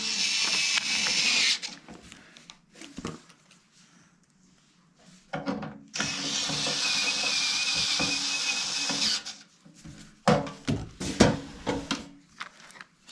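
Screws driven back in with an electric driver to refit the lid of an AKAI S2800 sampler, several separate whirring bursts, one long and steady, broken by clicks and handling noise in between.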